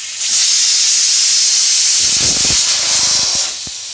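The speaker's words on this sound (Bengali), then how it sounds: "প্রেশার কুকারের আমার প্রথম হুইসেলটা পড়ে যাওয়ার পর আমি গ্যাসটাকে মিডিয়ামে দিয়ে দেবো।" A pressure cooker with kidney beans cooking inside lets out a loud, sustained steam whistle that starts abruptly and hisses continuously for over three seconds, with faint rattling clicks toward the end before it drops slightly.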